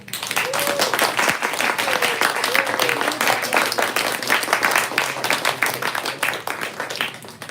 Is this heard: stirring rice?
no